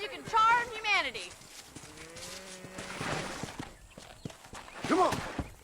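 Cattle mooing in the Red Dead Redemption video game: two loud, drawn-out moos at the start and near the end, with hoof clops and a voice in between.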